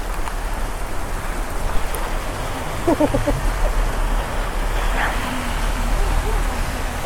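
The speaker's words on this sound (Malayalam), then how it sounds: "എവിടെയും മഴയാണല്ലോ" Steady rain hisses and patters in a broad wash of noise while people talk nearby.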